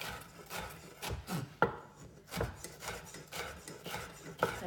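A knife slices vegetables at an angle on a cutting board, giving a series of soft, uneven chopping strokes with a few sharper knocks, close and quiet with no talking.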